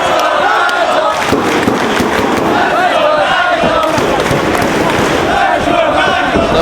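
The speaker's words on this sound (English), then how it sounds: "Cabana rallying the crowd behind Nigel McGuinness" Wrestling crowd in Chicago roaring and chanting behind Nigel McGuinness during a tag match, a dense, loud, continuous wall of cheers and shouts.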